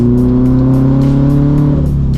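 A turbocharged Subaru BRZ engine revs loudly from close range as the car accelerates, with a strong rising drone through the run and a shift in tone near the end. No one talks over it.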